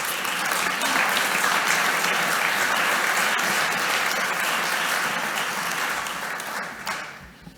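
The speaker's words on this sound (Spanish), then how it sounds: "Fuerte aplauso y adelante." An audience at a welcome session of a Spanish-language conference gives loud, sustained applause that holds steady and then fades out near the end.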